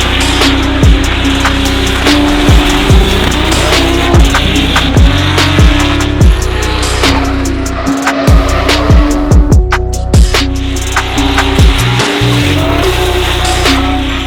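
A drift car slides through a run at Croix-en-Ternois, its engine screaming loud and close with repeated rev spikes, gear changes and tire squeal, sustained and unbroken.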